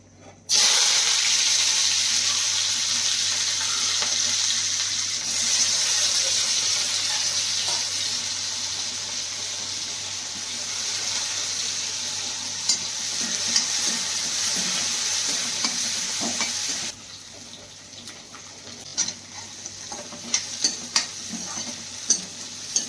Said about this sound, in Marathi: आता फोडणी करायची आहे मटकीला फोडणी जी आहे ती करणार आहे